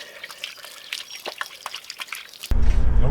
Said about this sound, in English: Best thing about having the trailer with an 80 litre water tank is you can wash your hands